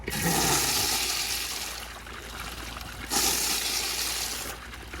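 A Universal Rundle Colburn urinal flushes, giving two loud rushing surges of water about three seconds apart, each tapering into a gurgling drain.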